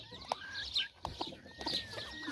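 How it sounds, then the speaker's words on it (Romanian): A bantam rooster clucks in a few short, close calls, with scattered bird chatter and farmyard noise behind it. "acesta este un nou cocoșel pitic de la Sibiu, de la Luca"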